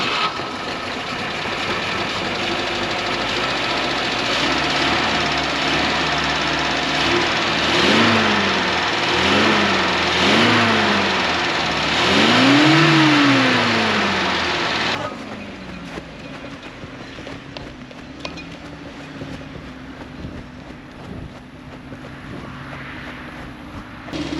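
A 1967 Volvo Amazon 122S engine runs close by with a rough, steady note, blipped through several quick rising-and-falling revs before dropping back to a quieter idle.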